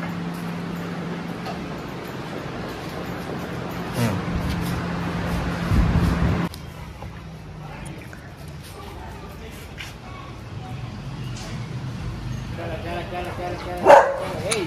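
A dog barks sharply once near the end, louder than the quiet background, after a stretch of low ambient noise and faint activity.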